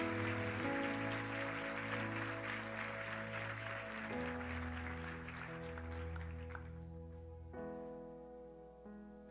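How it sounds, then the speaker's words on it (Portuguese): A church congregation claps to praise the Lord over sustained organ or keyboard chords, the clapping a dense, even texture beneath the loud held music, thinning out toward the end. "Em nome de Jesus, aplauda o Senhor."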